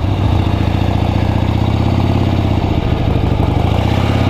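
A forty-year-old Harley-Davidson motorcycle engine runs steadily at close range, a loud, even, throbbing idle with a mechanical clatter and no change in pace.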